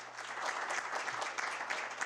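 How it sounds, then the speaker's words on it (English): Applause at a Marion city council meeting, a steady wash of clapping from a small group, faint and somewhat distant, with no voices over it. "Everyone give Aisha a round of applause."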